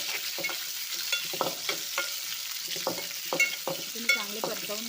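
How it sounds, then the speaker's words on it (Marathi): Two large chopped onions are stirred and lightly sautéed in a pan for a vegetable dish, with a soft steady sizzle broken by repeated scraping and stirring strokes, close and fairly quiet. "हे 2 कांदे आहेत, मोठे कापून घेतलेत। ते आपल्याला थोडे परतवून घ्यायचे।"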